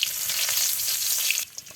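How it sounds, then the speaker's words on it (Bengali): Chopped onion and garlic dropped into oil left from frying fish, a loud bright sizzle that cuts off abruptly near the end, followed by a couple of faint stirring sounds. "মাছ ভাজা হয়ে গিয়েছে, আর ওই তেলেই পেঁয়াজ আর রসুন কুচি দিয়ে দিল।"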